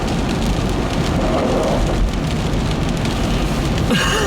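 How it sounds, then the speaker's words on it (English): Steady heavy rain drumming on a car during a driving lesson on a dark, wet day, a loud continuous hiss and patter that fills the whole stretch. "it's rained as well, and it's not really stopped, has it, at all?"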